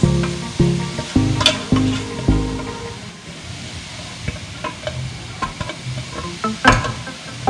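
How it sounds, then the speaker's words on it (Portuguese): Chunks of cooked chicken tumble and thump inside a closed pressure cooker that is shaken to shred the meat, in several rough rattling bursts followed by softer shuffling. "fechando ela e sacudindo."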